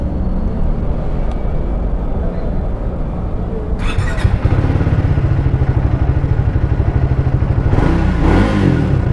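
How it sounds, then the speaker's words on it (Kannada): A 2024 Triumph Speed 400 motorcycle's single-cylinder engine and exhaust, a loud close-up throbbing idle that swells into revving with rapid rhythmic pulses and a gruff exhaust note. "ಎಕ್ಸಾಸ್ಟ್ ಈ ಥರ ಕೇಳಿಸುತ್ತೆ"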